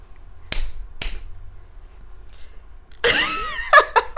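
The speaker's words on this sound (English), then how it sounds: "Are you ready to clap?" Two podcast hosts clap twice, giving two sharp, separate smacks half a second apart in a quiet room, followed after a pause by a burst of voices and laughter.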